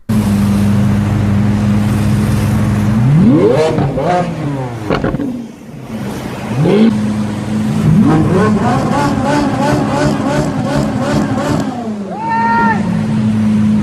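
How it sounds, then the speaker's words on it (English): A Lamborghini engine revving hard in loud bursts, pitch sweeping up and falling back several times over a steady idle drone, close and dominant throughout. "This guy was revving the engine of his Lamborghini to show off when it suddenly caught on fire."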